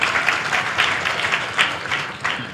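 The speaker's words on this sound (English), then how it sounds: "Clap for Jesus." A church congregation claps for Jesus during a deliverance service, a loud, dense roar of many hands applauding together, close and continuous with slight swells, and no talking over it.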